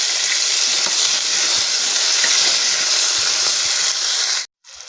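Tempering crackles and sizzles steadily in hot oil with curry leaves added, loud and close, then cuts off abruptly near the end.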